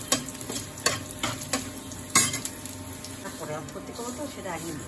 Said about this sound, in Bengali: এখন সেমাইটা হালকা হিটে সুন্দর লাল করে ভেজে নিতে হবে।